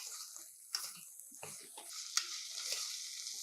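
Sprouts and cubed beetroot pieces stirred in a pan for a quick healthy rice dish, a soft scraping and shuffling with faint sizzle and a few brief clinks, fairly quiet and with no voice.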